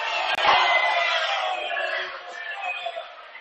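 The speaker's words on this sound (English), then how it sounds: "I'm not sure why everybody's booing." A basketball crowd in a college gym sends up a loud, sustained murmuring roar of boos, swelling at the start and then slowly easing off while staying steady.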